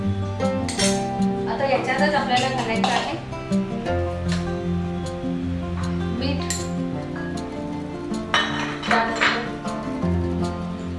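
A thick, freshly ground stuffing masala is scraped from a pan into a bowl, with close metal utensils clinking and scraping intermittently under a steady background hum.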